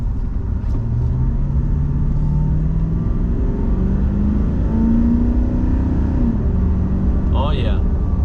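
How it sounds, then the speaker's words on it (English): Nissan Titan XD with a 5.0L Cummins diesel, turbocharger and CFT intake pipe, driving, gives a steady loud low diesel drone that slowly rises in pitch under cab noise, with a faint higher whistle near the end. "I noticed a little bit more engine noise. So like, the diesel, the grunt"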